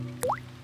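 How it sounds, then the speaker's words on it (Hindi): A single water drop falls into a bucket, one short bright plink with a quick upward ring, close and clear over a faint low background hum in a cartoon scene. "डैडी पिग बूंदें इकट्ठा करने के लिए बाल्टी का इस्तेमाल कर रहे हैं।"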